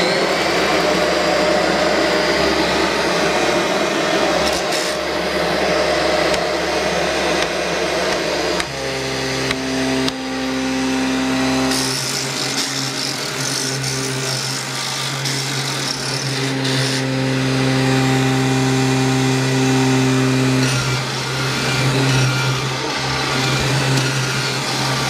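A trash-picked Kirby vacuum cleaner runs continuously with a loud motor roar, shifting into a higher steady whine partway through with some rattles and clunks, and no talking.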